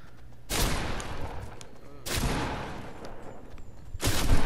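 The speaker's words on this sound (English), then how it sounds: "That sounded like a bullet." Three heavy, booming gunshots go off in a Fortnite battle royale match, spaced about one and a half seconds apart, each hitting sharply and then decaying into a rumbling tail.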